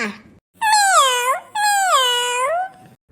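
Two long, drawn-out meows from a cartoon cat, loud and close, each rising then bending downward. The meows sound like a human voice imitating a cat.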